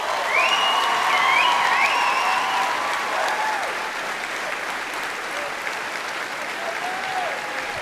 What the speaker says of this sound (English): Please give a round of applause for Brandon Cousineau.